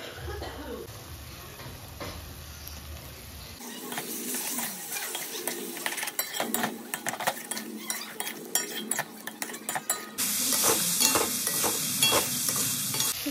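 Shrimp paste fries in a pan with pointed gourd, making a continuous sizzle under busy stirring, with spatula scrapes and metallic clinks against the pan that grow louder and brighter toward the end.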